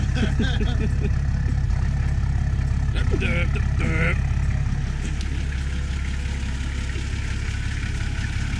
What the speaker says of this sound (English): It's alive! The tractor goes! It's alive!